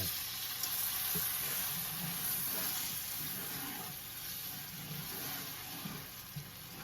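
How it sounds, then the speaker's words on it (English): Cooking wine poured into a hot pan of browned turkey pie filling, raising a steady, fairly quiet hiss and sizzle that runs on for several seconds with no voices. "now we're going to put the cooking wine in"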